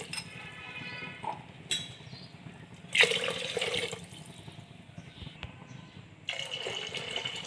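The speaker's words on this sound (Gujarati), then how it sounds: "હવે એની અંદર આપણે વધારે પાણી નાખી દઈએ." Water poured into a pressure cooker holding rice, lentils and vegetables for Swaminarayan khichdi, with bursts of splashing and filling separated by pauses and a light metallic clink between pours.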